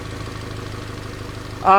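A car engine idles steadily while its exhaust is checked for leaks, the suspect being a clogged muffler or catalytic converter; a low, even rumble runs throughout, ending in a brief louder burst near the close.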